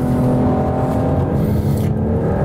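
A BMW 4 Series Coupé accelerates hard out of a corner, its engine note loud, dense and steady throughout, with a slight whir underneath and no voices.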